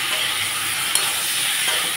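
Cauliflower florets and potatoes fry in oil, giving a steady, fairly loud hissing sizzle with a brief clink near the middle and no talking.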